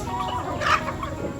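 A chicken clucks once, brief and moderate, amid steady rural background noise in a Thai farming village.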